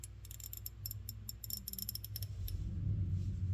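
A brand-new Proto 72-tooth thin-profile polished ratchet wrench, close up and fairly quiet, gives off fine, fast clicking in uneven bursts from its pawl mechanism, with a faint low rumble building underneath toward the end.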